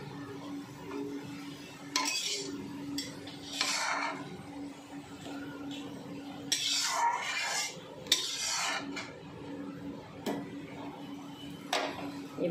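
Spoon scraping a stirred mixture out of a wok into a bowl while cooking lau shak (bottle gourd greens) paste; repeated rasping scrapes and light clinks come close and clear over a low steady hum.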